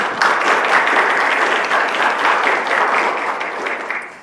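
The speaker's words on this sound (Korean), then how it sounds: "박수 소리가 지금보다는 크실 거라고 믿어보겠습니다" Applause from a small concert audience at a university commemorative event for the 100th anniversary of the March 1st Movement, steady and dense throughout, fading slightly at the end, with no talk.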